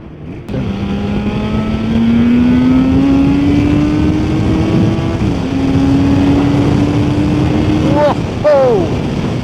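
A Yamaha RD500 two-stroke motorcycle engine pulling and revving, a loud nasal drone rising steadily in pitch, easing briefly, then climbing again before quick sharp blips near the end; close and continuous.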